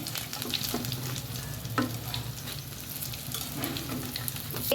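Onion fritters (piyaju) fry in hot oil with a constant close sizzle and crackle, plus occasional light clinks and stirring sounds throughout.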